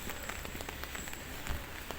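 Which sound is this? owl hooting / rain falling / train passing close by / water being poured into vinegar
rain falling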